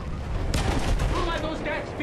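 Battlefield 1 battlefield gunfire crackles in dense overlapping bursts, loud and close, with a sharp blast in the middle and a noisy rumbling wash throughout.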